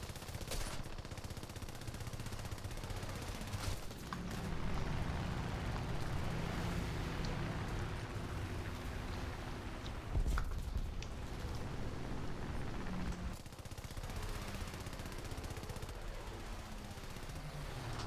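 Gunfire from an enemy aircraft in the War Thunder flight game, with bursts of machine-gun fire over constant engine drone and a sharp impact partway through.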